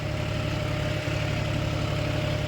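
A John Deere 5045 tractor's diesel engine drones steadily and loudly under heavy ploughing load, a continuous low throbbing hum with a faint dip midway and no voices.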